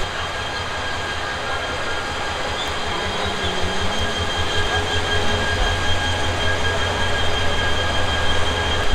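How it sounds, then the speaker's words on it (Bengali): A train rumbling through an open railway station at Lalmonirhat, a continuous loud low roar with a rhythmic clatter that swells slightly toward the end. "ট্রেনের প্রচণ্ড শব্দ হচ্ছে"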